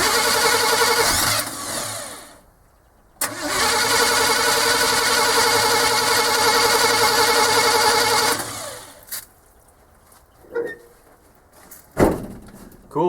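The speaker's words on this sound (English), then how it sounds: "the oil pressure is really good as we're cranking, but we're just not getting any fuel up here" The engine of a 1973 Chevy crew cab, sitting for three years and getting no fuel, cranks loudly without starting in two long bursts, followed by short mechanical knocks and clatters.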